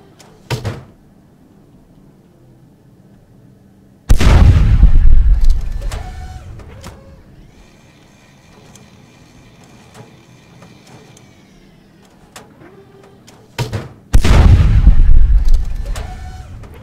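CSD battlecannons fire in the game Space Engineers, with two heavy booming blasts several seconds apart, each trailing into a rumbling decay, amid quieter mechanical whirs and clicks in between.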